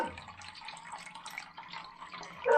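Lye solution trickles slowly into melted tallow at about 150 degrees during soap making, a soft continuous liquid pouring and splashing sound, quiet and close.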